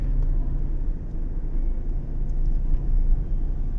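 Steady low car engine rumble and road noise from inside a vehicle driving on the C5 road, slowing near a stoplight in moderate traffic; continuous and fairly loud, with no talking.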